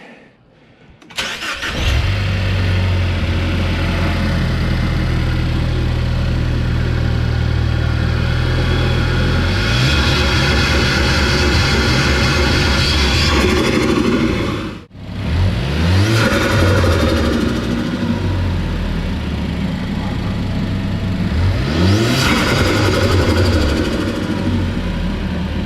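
A Ford Focus ST fitted with a Mishimoto air intake starts up close by, settles into a steady idle, then revs sharply twice with rising and falling engine pitch, loud and without talk.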